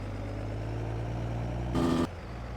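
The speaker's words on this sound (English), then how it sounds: "Might have to try and alter the sound of this truck at some point, maybe." A steady low truck engine idle in Farming Simulator 22 rumbles throughout, with a brief louder burst of noise near the end before the idle settles again.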